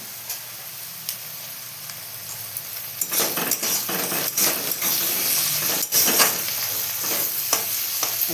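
Tomatoes dropped into a pan of vegetables frying for pasta, answered by a steady close sizzle with repeated clinks and scrapes of a utensil stirring against the pan, busier after the first few seconds.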